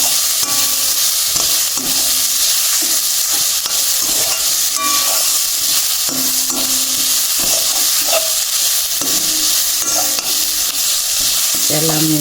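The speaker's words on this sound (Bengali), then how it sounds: "ঘিয়ের মধ্যে নারিকেল। তো আমি এটা ভাজি নেই" Grated coconut fries in ghee in a pan for sweet milk dumplings, a constant bright sizzle under repeated scraping stirs of a spatula throughout.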